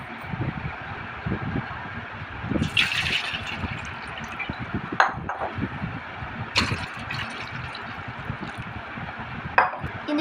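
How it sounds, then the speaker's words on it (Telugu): Water is poured from a bowl into a glass in a home kitchen, giving uneven splashing and trickling gurgles with a few sharp clinks, close by. "ఇప్పుడైతే గిన్నె తీసుకొని గ్లాసులో వాటర్ పోసుకుందాం అనుకుంటాం."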